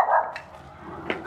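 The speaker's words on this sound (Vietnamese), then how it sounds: "Coi chừng chó." A dog gives a few short barks and yips close by, in quick separate bursts.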